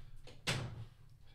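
A door swings shut with a single soft thud indoors, a brief muffled knock over a low room hum, with no talking.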